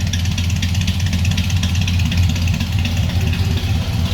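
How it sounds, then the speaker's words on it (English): A 1966 Chevrolet C10 regular cab long box pickup with a small block Chevy V8 idles steadily nearby, a low, even rumble with no revving or voices. "Listen to that idle."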